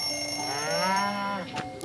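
A cow moos in the Monkey Mart video game, one long drawn-out call that rises and falls over game music and a steady electronic tone, loud and close.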